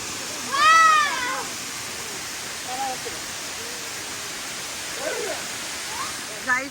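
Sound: waterfall

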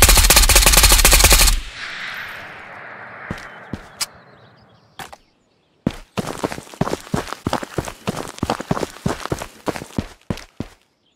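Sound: AK Alpha rifle firing in video game Ghost of Tabor

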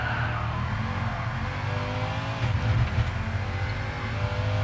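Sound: Mustang car driving in Gran Turismo Sport video game

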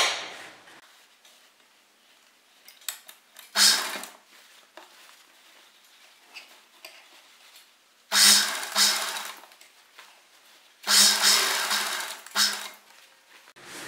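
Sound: sewing machine stitching a collar to canvas cloth

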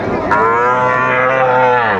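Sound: Sahiwal heifer calf mooing

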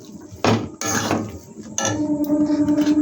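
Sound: stirring and frying with turmeric in a pan

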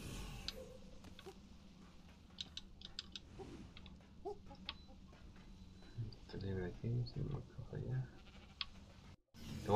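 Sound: goat bleating in the video game ARK

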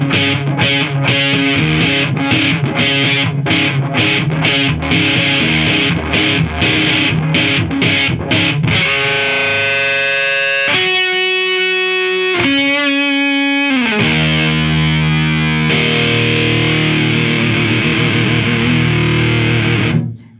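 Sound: guitar fuzz distortion pedal

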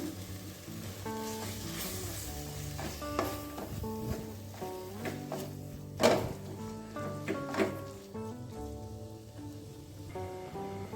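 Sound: masala with ground coconut frying and being stirred

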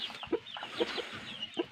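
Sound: chickens clucking

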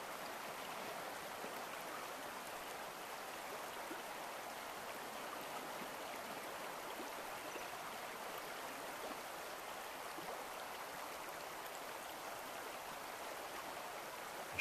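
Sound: river current flowing

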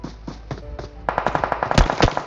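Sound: gunfire in the video game PUBG Mobile

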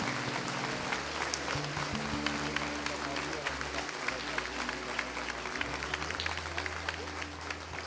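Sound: congregation applauding

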